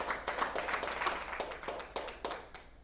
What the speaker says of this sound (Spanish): Dele el aplauso al Rey de Reyes